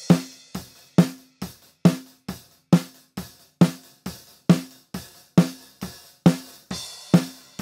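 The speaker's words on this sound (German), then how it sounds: "Wir hören mal kurz in die nackte Snare-Spur rein, wie die unbehandelt und komplett ohne Noise-Gate und alles klingt." A raw, unprocessed snare drum track with no noise gate gives a steady run of sharp, loud snare hits with ringing tails, while kick drum and cymbal bleed hiss and thump faintly between strokes, with no voices.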